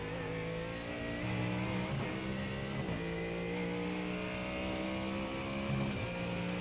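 A Ford Mustang GT3 race car engine in the iRacing simulator gives a steady, loud V8 drone that rises and dips with a few shifts and throttle changes, continuous with no talk.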